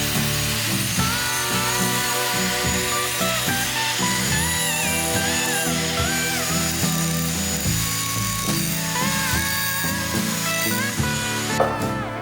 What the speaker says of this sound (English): And then I grinded the edges a little bit smoother.